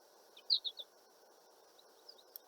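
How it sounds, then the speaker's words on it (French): Several short bird chirps outdoors, a quick cluster of three or four bright calls followed by a couple of fainter ones, fairly distant over a steady background hiss. "Il y a des beaux oiseaux."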